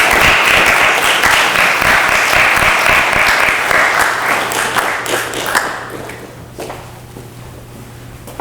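An audience at a university capstone presentation breaks into loud, sustained applause close by, the clapping gradually thinning and fading over several seconds.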